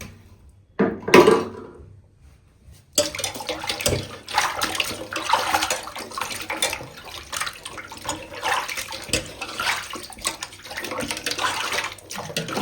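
Water poured over cut pieces of a 4 kg katla fish in a basin, a brief splash then, after a pause, continuous splashing and rushing water with knocks of the pieces against the container, close.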